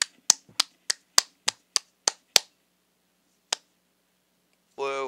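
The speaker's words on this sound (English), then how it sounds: "Clap, clap to myself." A man claps for himself while building a house in a game: about nine sharp, evenly spaced claps in a quick run, a pause, one more lone clap, then a brief vocal sound at the end.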